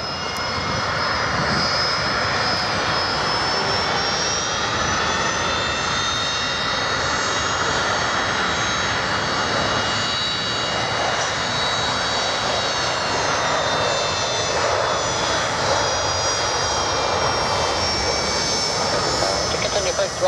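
Airliner jet engines roaring steadily at full power during takeoff on runway 33 at Birmingham Airport, a loud continuous whine and rumble with air traffic radio chatter heard over it.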